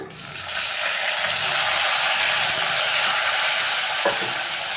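Tomatoes are tipped into a hot pan of oil with sizzling cumin seeds and curry leaves. A steady, loud frying hiss swells right after they go in, with a faint clink near the end.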